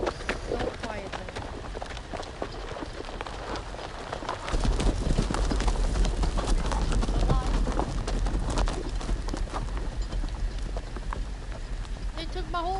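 Horses' hooves clatter in a rapid, rhythmic gallop in a Game of Thrones video game, growing louder and heavier midway, with rain-like background hiss and occasional voices over the scene.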